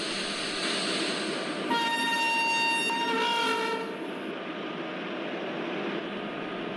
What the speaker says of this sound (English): let's make a long horn and let's depart Kadapa station